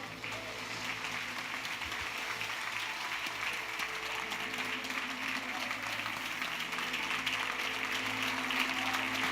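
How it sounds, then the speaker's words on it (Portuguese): Congregation applauding in a church service, a steady wash of clapping that holds at an even level throughout, with a faint low hum beneath and a few voices mixed in. "Você pode aplaudir o Senhor?"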